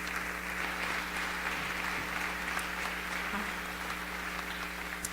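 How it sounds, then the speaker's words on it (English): At a tenth-anniversary gala, an audience keeps up a steady round of applause: continuous, moderately distant clapping over a low electrical hum, with no voices. "Keep a round of applause going, Dr. Polok."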